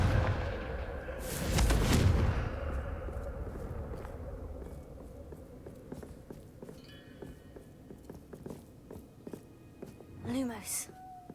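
Confringo blasting spell in a Harry Potter video game, a loud booming blast followed by scattered footsteps and clattering; a voice speaks quietly underneath, and a brief swell near the end.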